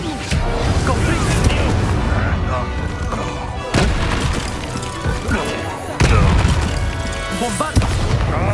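Spell blasts from Bombarda and Confringo in the video game Hogwarts Legacy: repeated booming explosions, loud and close, sounding at roughly 0, 3.7 and 6 seconds over continuous battle noise and music, with a voice shouting spell names.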